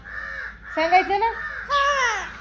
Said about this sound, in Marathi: कावळे ओरडते ते भरपूर